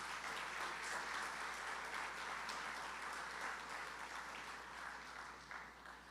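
A crowd at an app launch event gives a presenting team a round of applause, a dense, even wash of clapping from many hands, distant and quiet, holding steady before easing slightly at the end.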